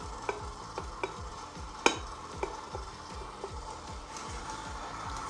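A stand mixer churns tart pastry dough at its lowest speed, giving a steady low rhythmic whirring with regular sweeping pulses and a few sharp ticks as the beater knocks the bowl.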